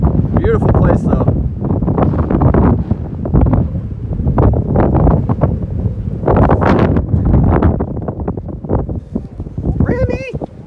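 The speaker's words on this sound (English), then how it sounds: "check out how windy it is" Heavy wind buffets the microphone in continuous loud rumbling gusts, with a voice faintly breaking through near the end.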